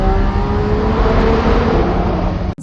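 A Lamborghini Revuelto V12 engine roars steadily from inside the cabin, loud and sustained with a broad rumbling drone, then cuts off abruptly near the end.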